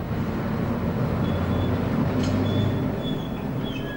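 Freightliner container train rolling along the rails, a steady loud rumble of wagons with faint high wheel squeals drifting in and out, no voices.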